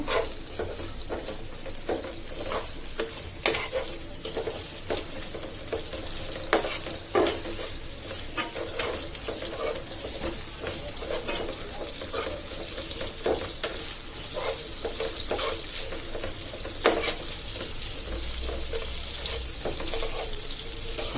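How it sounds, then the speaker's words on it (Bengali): Onions fry in oil in a kadai as the base for a loitta fish and tomato bhuna, giving a dense, continuous sizzle broken by frequent clicks and scrapes of stirring, close and fairly loud throughout with no talking. "এদিকে লইট্টা মাছ, টমেটো দিয়ে লইট্টা মাছ ভুনা করার জন্য আমি কড়াইতে তেল দিয়ে দিছি এবং পেঁয়াজগুলো দিয়ে দিছি"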